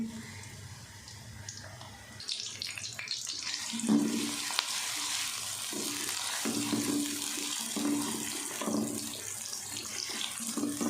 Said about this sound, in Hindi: सबसे पहले हम इसमें डाल देंगे ये 2 प्याज बारीक स्लाइस में कटी हुई, ये हम इसमें ऐड कर देंगे।